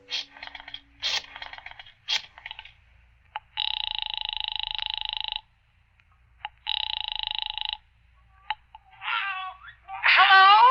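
Two long bursts of an old-fashioned telephone ringing, used as a radio drama sound effect, separated by a pause. Short voices and clicks come before and between them, and a voice answers at the end.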